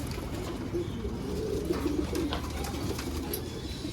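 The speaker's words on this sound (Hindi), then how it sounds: "ये रिंग आ रहा है भाई सारे कबूतर।" A flock of fancy-coloured pigeons cooing in a soft, low, continuous murmur, close by and fairly steady, with no voices.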